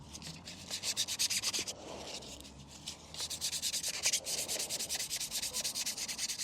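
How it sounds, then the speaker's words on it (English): Light hand sanding of a prop helmet with 240-grit sandpaper, a steady series of soft, rhythmic scratchy strokes, close and moderately loud with no talking. "I'm just giving it a light sand."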